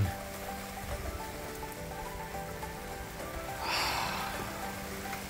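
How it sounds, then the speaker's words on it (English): Steady rain falls on surfaces outdoors in Hamburg, a dense continuous hiss of drops at even loudness that swells briefly heavier near the end, with no talk. "Why is it raining?"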